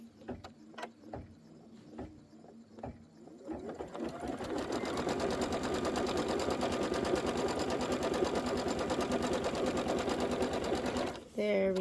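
Sewing machine stitching a Kimberbell Cuties quilted table topper, a few separate needle taps at first, then a continuous rapid close whirring run of stitches that stops abruptly at the end.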